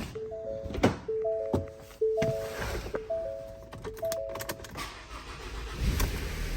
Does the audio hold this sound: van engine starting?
yes